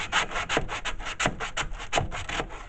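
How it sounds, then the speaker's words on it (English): Rhythmic rasping strokes of a tool scraping across the wood of a pool table under repair, about a dozen quick back-and-forth passes close by, with no talking. "All I was doing is scraping this on there."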